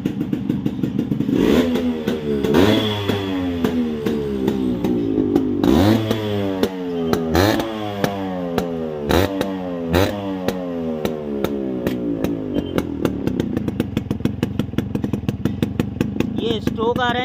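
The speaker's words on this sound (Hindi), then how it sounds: "अब मैं आपको आपकी बाइक को स्टार्ट करके दिखाने वाला हूँ।" A Yamaha RX100 two-stroke motorcycle starts and revs repeatedly, each throttle blip rising and falling sharply with a crackling exhaust, close by, with brief speech in between.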